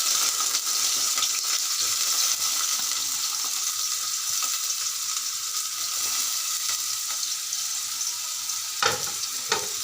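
Onion frying in hot oil in a home kitchen pan, an even, dense hiss of sizzling that stays steady throughout, with a brief stir or clatter near the end, close up and without speech.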